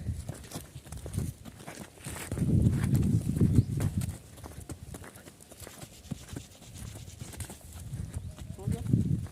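Hooves of a running mare clip-clop on the ground in uneven bursts, fairly close and moderately loud, while a rider calls out to the horse over them.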